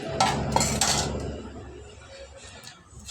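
Metal clinks and clatters of a lid being set on a cooking pot of coconut milk rice, a few quick knocks up close, fading into quiet kitchen background.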